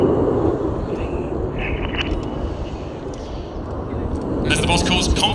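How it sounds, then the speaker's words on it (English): Red Arrows jet aircraft perform a flying display at the Midlands Air Festival, a loud, steady engine roar that swells toward the end while an announcer commentates over it. "As they reverse to the left, on the left-hand side is Lieutenant Andy McEwen."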